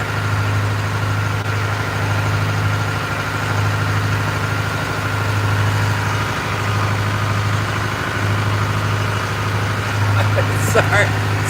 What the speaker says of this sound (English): Sorry about the horrible engine noise here. This is how it is on my boat.